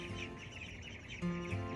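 Hens on a family farm cluck steadily through the short stretch at chore time, a dense close flock with a few louder calls near the end and no talk over them.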